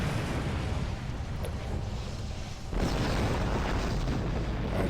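An enemy ship is destroyed in the space game Star Trek Online with a loud, dense rumbling boom, followed by a second heavy burst of explosive noise.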